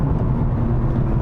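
A loud, steady 2021 Toyota GR Yaris engine drone at about 5,000 rpm with a low, dense rumble, heard close up and continuous throughout, with no voices.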